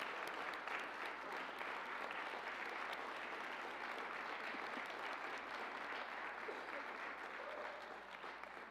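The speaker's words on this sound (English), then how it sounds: "Oh, and there we'll clap for them." A church congregation at a Sunday service claps for the United Church women, steady applause from the room lasting several seconds and tapering slightly at the end.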